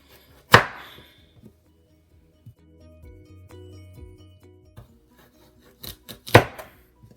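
A knife slices yams in half on a cutting board: two sharp chopping impacts at the start and end, with faint rubbing and handling noises in between, close by and with no one talking.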